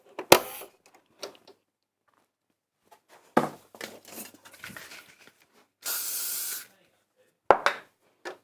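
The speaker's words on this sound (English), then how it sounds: "a bit of beeswax on the end would help, or a spray of hairspray" A short aerosol burst of hairspray from a can near a sewing machine, used to stiffen thread; one steady hiss of about a second stands clear amid scattered handling noises and brief talk.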